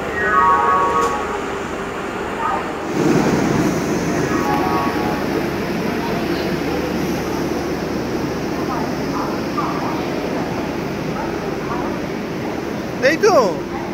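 A train at a railway station gives off a continuous low rumble and rolling noise, with platform bustle and a brief metallic screech near the end.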